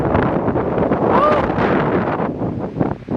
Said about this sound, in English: Wind is strong.